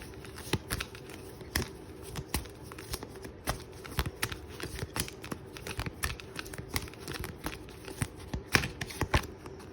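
Oracle cards shuffled by hand for a card reading, giving a steady run of soft papery slaps and riffles, close and fairly quiet, with no one talking.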